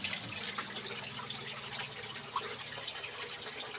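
Water flowing steadily over rocks in the Huai Hin Tat stream near Ban Na Ang, a continuous broadband rush at even loudness with no voices.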